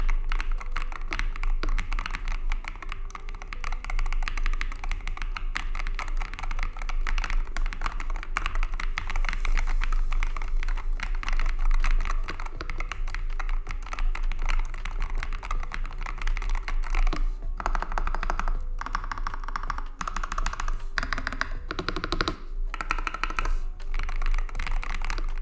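Continuous rapid typing on a MadLions gaming keyboard with hot-swappable magnetic switches: a dense stream of close, crisp key clicks and taps, with brief pauses and bursts near the end and no talk.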